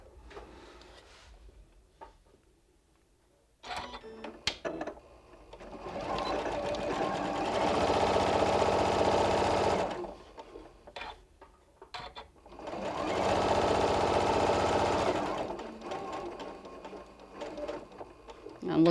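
A sewing machine stitches LeMoyne star quilt pieces in two sustained bursts of rapid mechanical whirring, each several seconds long. Quiet pauses with small handling clicks separate them, and a voice is faintly present nearby.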